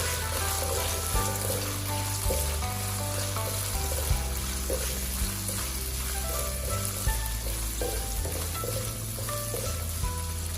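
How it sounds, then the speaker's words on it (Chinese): Ginger, garlic and chili stir-fried in a little leftover oil in a wok, giving a steady, close sizzle with faint scraping, while a continuous low musical tone runs underneath throughout. "锅留底油，把姜蒜辣椒倒下去，"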